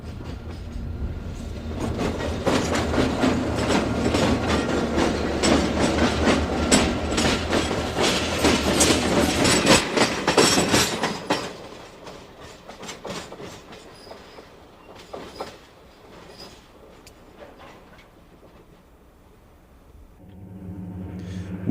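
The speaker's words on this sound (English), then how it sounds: "At Carlton, a northbound freight passes Emery's camera." Northbound Pennsylvania Railroad freight train passing at Carlton, a loud, dense rolling roar with steady clickety-clack of wheels that fades after ten seconds into scattered clanks and a quieter rumble.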